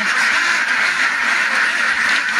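A group of ducks quacks constantly and loudly at close range, their overlapping calls forming an unbroken chorus.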